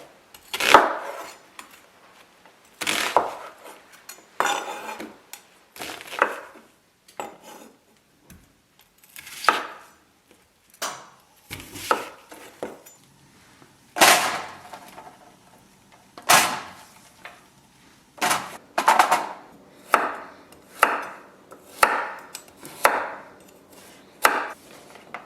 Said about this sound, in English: I'm going to cut up my onion.